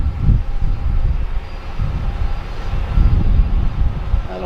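Allegiant airliner at Harrisburg airport at night, a rumbling low jet engine roar that swells and fades in uneven pulses at moderate distance, with no talking.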